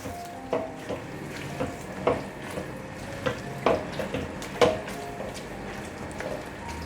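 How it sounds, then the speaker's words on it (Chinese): King oyster mushrooms are tossed with pure white sesame oil in a wok that has been taken off the heat, giving soft scraping and irregular clinks of a utensil against the pan over a faint sizzle. "这时候翻炒一下，用锅子的余温，让香油的香气逼出来"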